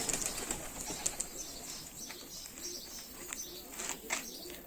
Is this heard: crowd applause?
no